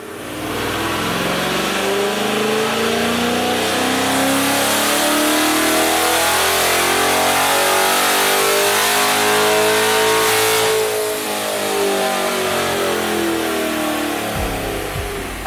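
A C8 Corvette running 93 octane fuel, strapped down on a chassis dyno, roars through a long sustained pull with the engine note rising and falling, loud and close, then eases off near the end.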